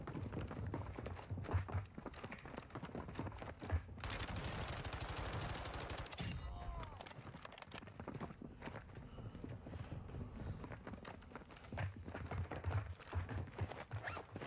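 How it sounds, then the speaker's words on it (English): Gunfire in Warzone 2 rattles from a lower floor in bursts amid footsteps and movement, with a dense, loud stretch of rapid shots in the middle of the scene. "People shooting each other downstairs."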